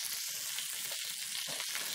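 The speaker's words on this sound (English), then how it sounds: "While the cactus is cooking" Nopales cactus paddles seasoned with salt and pepper fry in a pan, giving off a steady, soft, crackling sizzle with no voices.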